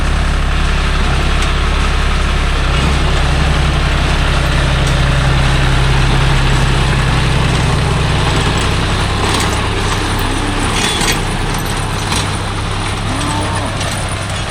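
A John Deere 5050D tractor works a rotavator in a farm field, its diesel engine a loud, steady low rumble throughout, with the pitch shifting slightly near the end. Faint voices sit under the engine.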